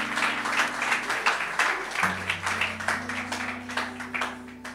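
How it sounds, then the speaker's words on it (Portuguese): A church congregation at a Portuguese-language service claps in a rhythmic, pulsing pattern over a sustained low keyboard or organ tone that shifts pitch partway through. "Aplauda o Senhor."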